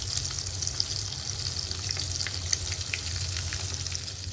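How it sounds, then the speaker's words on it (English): Fish pieces fry in hot oil with a steady, close sizzle and scattered small pops throughout, with no talking. "fry this until it's golden brown, and then take it out and set aside"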